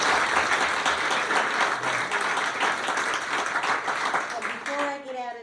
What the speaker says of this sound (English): do we want to give Ann and Jacki a round of applause